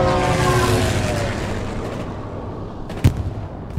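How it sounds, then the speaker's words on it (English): Heavy airstrike explosions in the World War II shooter Hell Let Loose roll in as a dense, sustained rumble, then thin out, with two sharp nearby blasts punching through near the end. "Oh yeah, we just got airstrike."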